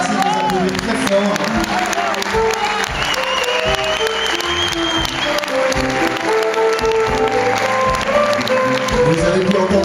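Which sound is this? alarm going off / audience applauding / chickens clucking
audience applauding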